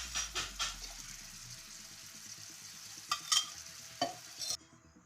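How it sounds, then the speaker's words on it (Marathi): Ghee melts into pav bhaji in a pan, giving a faint, low sizzle under scraping spoon strokes and a few clinks, close by and without speech. "2 चमचा तूप टाका याच्यामध्ये"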